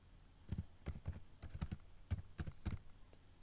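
Keys tapped on a computer keyboard while entering a short word of text, about a dozen light, uneven clicks in quick bursts, close and fairly quiet with no talking.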